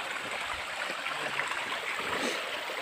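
A cold river flows with a steady, close rushing and gurgling wash, unbroken and fairly quiet throughout.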